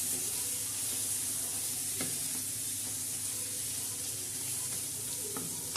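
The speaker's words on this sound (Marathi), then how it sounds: "या पद्धतीने आपण मसाला आता परबटासाठी परतून घेतलेला आहे" Ground masala paste fries in a pan with a continuous soft sizzle, fairly quiet, broken by a couple of stirring scrapes.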